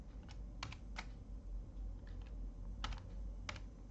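Key presses on a computer keyboard come in short, irregular bursts of clicks, faint and close against a low background hum, with no talk.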